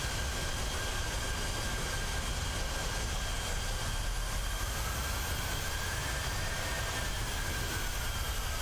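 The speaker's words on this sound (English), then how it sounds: "I want to hear some exterior sounds of the engine spool up." Exterior jet engine noise from a PMDG 737 in Microsoft Flight Simulator, a steady broadband roar with a faint rising whine as the engines spool up, continuous and fairly loud with no talking.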